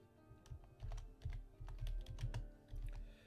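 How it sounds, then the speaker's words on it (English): Fingers type on a computer keyboard in quick, uneven bursts of soft clicks, close but quiet, with no voices for a few seconds. "Hope the keyboard's not going to be too loud."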